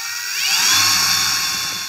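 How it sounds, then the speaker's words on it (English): Power drill boring through a plastic part of a Yamaha Raptor 660 ATV, one continuous high whine that swells and fades over about two seconds, close and loud. "let me drill this other side real quick"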